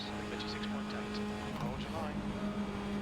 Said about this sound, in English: you can just hear them sliding around their tyres underneath us